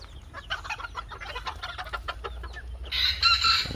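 Chickens cluck in a coop, close and lively, with a series of rhythmic clucks and a louder squawking cackle toward the end.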